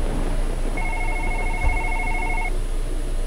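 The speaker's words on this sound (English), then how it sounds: "That's that's my phone." A phone rings in a late-night office horror video game, a steady electronic ringtone of repeated tones lasting a couple of seconds over a constant hum and room noise, with no speech.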